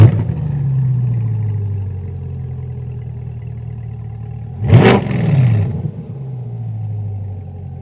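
A 2022 C8 Corvette Stingray engine with a 91mm throttle body idles low, then blips in one sharp rev that spikes loudly and falls back to a steady idle rumble.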